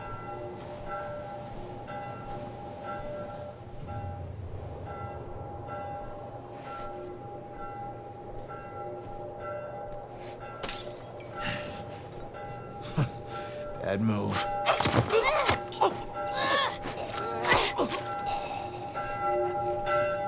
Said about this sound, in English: That bell is annoying.